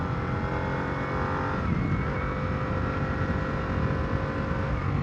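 Harley-Davidson Nightster motorcycle engine and aftermarket exhaust while riding, a steady, loud, continuous drone with a rough low rumble, heard close and alone throughout.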